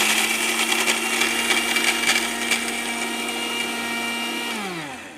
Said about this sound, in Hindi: तो अब हम इसे मिक्स करते हैं और अच्छा पाउडर बनाते हैं।